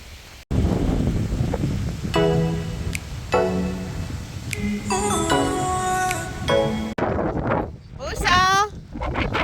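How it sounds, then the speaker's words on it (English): Strong wind blows beside a river, a steady low rumble of gusts buffeting the microphone for the whole stretch while children shout and talk loudly over it. "It's so windy."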